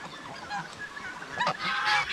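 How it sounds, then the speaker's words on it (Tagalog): A goose left behind by a fence on a farm honks a few times, moderately close and somewhat hoarse, over a soft outdoor background. "May gansa pa na natira din"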